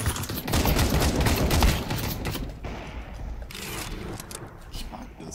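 Bursts of rapid gunfire in Counter-Strike 2 deathmatch crackle and thump, dense at first and then thinning into scattered shots, with a voice faintly underneath.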